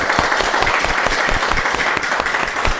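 A congregation claps together during a Korean church service, dense and lively applause filling the room at close range for a few seconds.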